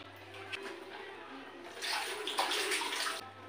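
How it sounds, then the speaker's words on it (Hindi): Running water splashes steadily over spinach leaves being rinsed, swelling louder midway with brief handling splashes, close by and with no talk. "मैं जिहड़ा इक वारी फिर धो लूंगी।"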